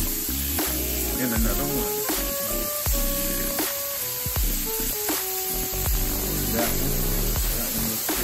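Pieces of steak for pepper steak sizzle steadily in a frying pan, a constant loud hiss with tongs or utensils clinking now and then and a voice speaking briefly over it.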